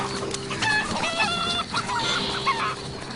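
Chickens, including hens and roosters, give a sharp aerial alarm call, a flurry of repeated clucks and squawks overlapping, close and fairly loud, with no talking.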